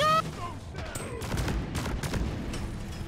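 A grenade blast and rapid gunfire in Space Hulk: Deathwing erupt together as a rumbling, chaotic fusillade of dense bursts, with brief game tones at the start.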